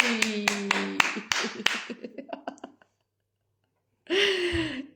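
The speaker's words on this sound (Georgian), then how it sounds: "ტაში!" A small group claps hands in a quick burst of applause, sharp close claps thinning into scattered taps before falling silent; a voice speaks briefly afterward.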